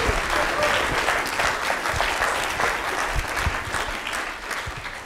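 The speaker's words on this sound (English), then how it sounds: "I think that deserves some active applause." An audience at a public health lecture on the built environment breaks into loud, sustained applause, a dense wash of clapping that carries on steadily and only begins to thin toward the end.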